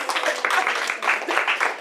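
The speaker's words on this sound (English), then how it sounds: "How about a round of applause for Ms. Jenkins?" A classroom of students applauds a teacher during a surprise visit, a dense spread of close claps lasting under two seconds with a few voices mixed in.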